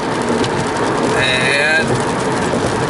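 Heavy rain pouring down in a constant, loud, dense hiss with no breaks, and a faint brief whine partway through.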